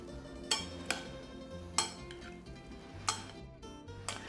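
Panzanella of tomatoes, cucumbers, onion and bread being tossed with olive oil, heard as soft, sparse clinks of utensils against a bowl at an irregular pace over quiet room tone.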